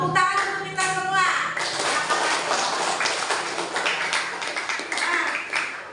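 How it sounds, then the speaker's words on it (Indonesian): A classroom of students claps briefly after a teacher's call for applause, scattered taps and claps following her voice and fading into shuffling and light chatter. "Tepuk tangan untuk kita semua."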